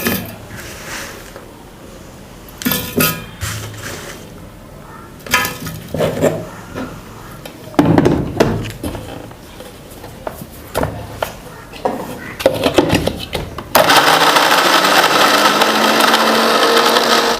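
A mixer grinder grinding jaggery in a kitchen, heard as a rough, steady whirring roar that cuts in loudly near the end, preceded by clattering and knocking of the jar and lid with a voice talking in between.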